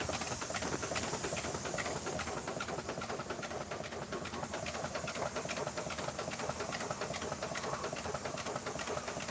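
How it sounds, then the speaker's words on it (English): Steady hiss and rumble from a steam engine exhausting through the roof of a steam shed, continuous and fairly faint, with a rhythmic chuffing texture running through it and no voices. "you actually hear the exhaust shooting through the roof"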